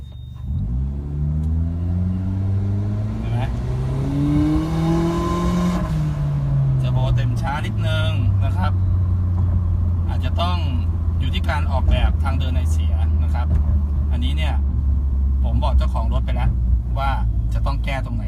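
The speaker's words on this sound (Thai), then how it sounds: "คือเทอร์โบเนี่ยเต็มช้า นะครับเนี่ยดูดูบูทผมให้ดูที่เกียร์วัดบูทนะครับ" A turbocharged Honda Brio 1.2 engine revs up, its loud droning pitch climbing over several seconds and then dropping back to a steady idle rumble, with someone talking over it for much of the time.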